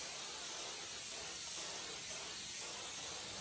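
An aerosol spray is released into the air of an office, giving a steady, continuous close hiss that runs unbroken throughout with no talk.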